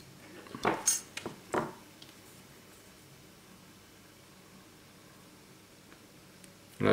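A few quick metallic snips from small scissors cutting excess thread at the finished whip-finish knot of a tied fly, several close clicks bunched early, then near silence with a faint room hiss.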